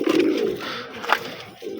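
A pigeon coos close by, with a low throaty call followed by a brief higher note and a soft second coo, with no talking.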